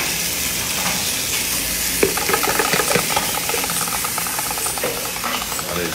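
Onion and bell pepper frying in olive oil give a steady, dense sizzle with scattered crackles and stirring clicks, close and continuous throughout.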